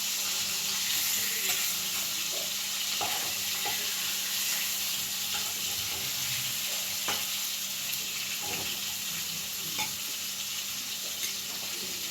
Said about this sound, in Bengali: এই যে কাতলা মাছ ভাজা হয়ে গেছে